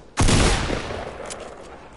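Gunfire in a video game: a single loud burst of shots that starts abruptly and fades out over about two seconds, heard alone without talk.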